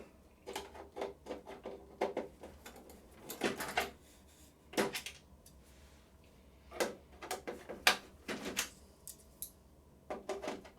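Taking the hinged door off an Epson WorkForce R5690 printer gives a quiet series of close plastic clicks, snaps and scrapes in irregular bursts with short pauses.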